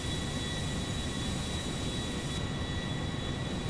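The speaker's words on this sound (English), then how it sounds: "This airplane was known for being a supersonic cruising airplane." A Concorde airplane mod in GTA 5 cruises with a constant, dense engine roar and faint steady whining tones, unbroken from start to end.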